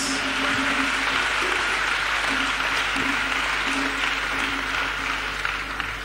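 A church congregation claps together in praise of Jesus Christ, a dense, steady wash of applause that stays loud and even from start to finish, with a faint tonal hum underneath.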